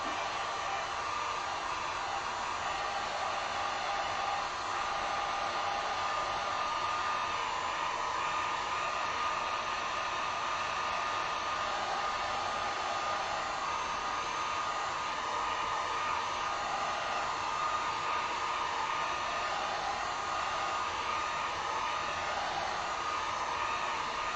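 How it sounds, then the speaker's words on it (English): A heat gun on low temperature drying acrylic paint on a chalkboard-style sign gives a steady, close, breathy whoosh that runs unbroken throughout, with no talking. "I'm gonna grab the heat gun real quick though."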